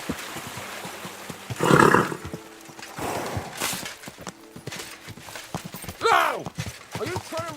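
Horse hooves clip-clop and a horse snorts and whinnies in the medieval video game Kingdom Come: Deliverance II, with a voice talking between the animal sounds.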